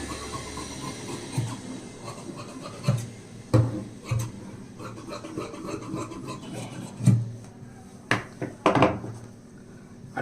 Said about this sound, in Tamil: அடுத்து பாருங்கள், ஃப்ரண்ட் சைடு கட் பண்ணி எடுத்துடலாம்